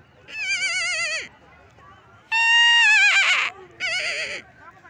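A man imitates animal calls near camels, producing three loud, wavering bleat-like cries with pauses between them, close to the microphone over faint outdoor background noise.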